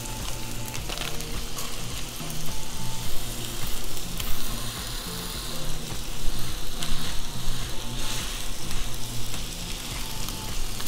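Slider patties sizzle loudly on a hot cooking surface, a continuous crackling fry that swells and ebbs slightly, close up and with no talking over it.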